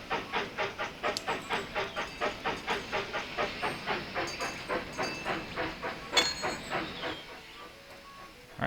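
In Railroad Tycoon 3, a steam train labors up a hill with a regular chuffing pulse and hissing steam. The beats stay steady at first, then grow fainter toward the end, and no one speaks.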